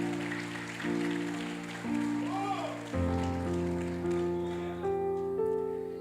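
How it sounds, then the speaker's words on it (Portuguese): A church congregation claps in sustained, pattering applause under held organ or keyboard chords that shift pitch, with voices faintly mixed in. "Uma salva de palmas, irmãos."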